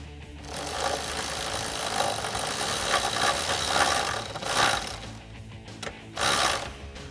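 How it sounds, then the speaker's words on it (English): Ratcheting clicks of a 13mm socket wrench snugging an M8 bolt into a steel step-bar bracket on a Jeep Wrangler JL, a steady run of close mechanical clicking that pauses briefly twice near the end. "And then we'll loosely tighten that with our 13mm."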